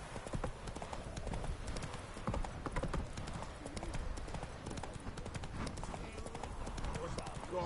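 Roach the horse in the video game The Witcher 3, a steady stream of hoof clip-clops at a walk under continuous talk, moderately loud throughout.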